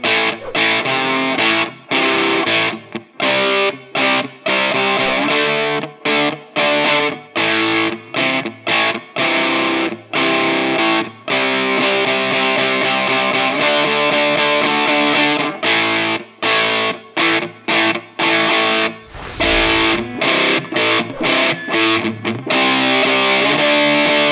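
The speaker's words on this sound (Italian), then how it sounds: "Anche con il gain al minimo il suono è veramente, veramente tanto distorto." An electric guitar played through a tube overdrive pedal with gain at minimum still sounds heavily distorted, loud chugging chords and riffs stopping and starting in rapid bursts with short silences between.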